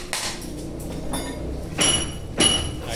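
Two sharp hammer blows drive a nail into a 2-inch-thick wooden plank while building a wooden scaffold, close and distinct against a quiet background.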